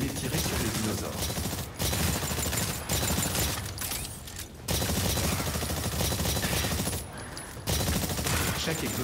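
Live-fire gunshots at dinosaur targets in the shooter game Exoprimal: dense, rapid automatic bursts crackle almost continuously, broken by brief pauses between volleys, with some mechanical clatter mixed in.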